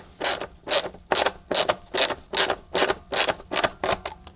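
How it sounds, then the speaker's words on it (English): A manual screwdriver drives screws into a vintage Hoover Junior U1104 vacuum cleaner, giving about ten evenly spaced ratcheting clicks up close, with no talking. "I prefer to use a manual screwdriver."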